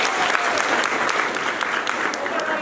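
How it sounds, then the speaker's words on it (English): An audience claps for PhD graduates at a SHOFCO gathering, a loud, dense round of applause with distinct sharp individual claps standing out, continuing steadily throughout. "So let's give them a clap."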